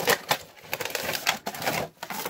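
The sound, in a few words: cutting tape on toy packaging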